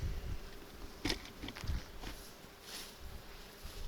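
Honeybees buzz faintly around an opened hive during an April inspection for queen cells, a soft steady hum with occasional light knocks and handling sounds close by.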